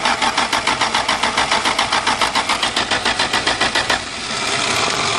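A 1977 Dodge Tradesman van with a slant-six engine cranks on a cold start with loud, rapid, rhythmic starter pulses for about four seconds, then catches and settles into a steady running rumble.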